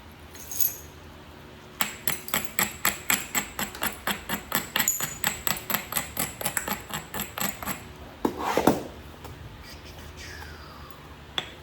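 Gold jasper being knapped into an arrowhead: a rapid, steady series of about two dozen sharp, ringing stone taps, close and clear, ending in a brief scraping flurry.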